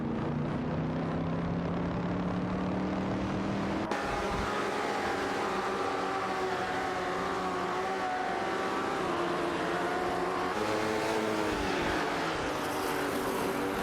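Honda Civic race cars circling a track in an AI racing video game, a steady droning engine roar with shifting pitch tones throughout, loud and continuous with no talking.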